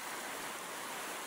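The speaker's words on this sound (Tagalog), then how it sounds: "gitna ng ilog" River water flows steadily in the middle of a wooded river, a soft, continuous broadband rush that stays faint and even throughout with no voices.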